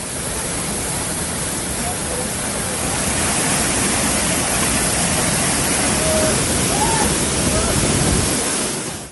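The Kannegundi waterfall near Bhatkal roars continuously at close range, a loud, dense and unbroken rush of falling water with no pauses.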